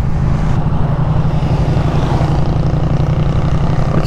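Steady, loud exhaust drone from a Yamaha MT-07 motorcycle engine running nearby, a low, throbbing rumble that holds evenly throughout.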